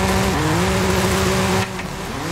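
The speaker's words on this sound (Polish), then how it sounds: "posłuchajmy fury, zobaczymy, jak ona w ogóle śmiga" A BMW M4 G82 with a 3.0-litre twin-turbo inline-six in Forza Horizon 5 revs loudly and steadily, its engine pitch rising, then the note drops as the throttle eases, heard close with no voices.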